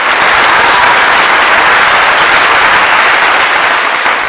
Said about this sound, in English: I give you a clap.